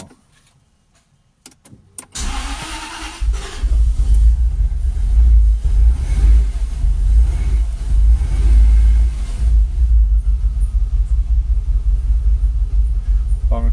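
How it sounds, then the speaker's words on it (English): Jaguar XKR engine cranking and catching after a couple of seconds of near silence, then settling into a loud, deep, steady idle held at low revs. "I'm going to try and keep the revs at about 600 RPM."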